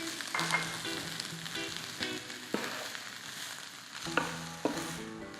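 Brown rice and green peas frying in a pan for fried cauliflower rice, a steady close sizzle with scraping stir strokes and occasional sharper clinks, no voices.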